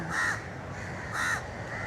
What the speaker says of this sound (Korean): 이게 근데 까마귀가 좀 무서워요.